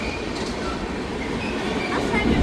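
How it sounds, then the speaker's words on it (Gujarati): A train passing through a long tunnel rumbles and clatters steadily, with a boomy, enclosed roar and faint squealing wheels, growing slightly louder toward the end. "તો આ ટનલમાં થઈને જાય ટ્રેન ને, બહુ મોટી ટનલ છે."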